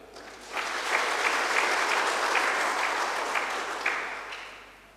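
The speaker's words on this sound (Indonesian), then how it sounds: "Boleh tepuk tangan" A church congregation applauds at a pastor's emeritus retirement service in a Javanese Christian church: clapping swells in quickly, holds as a full, even patter of many hands, then gradually fades away.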